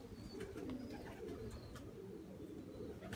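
Pigeons coo softly in low repeated murmurs over a dense, continuous background of bird noise, with a few faint higher calls scattered throughout.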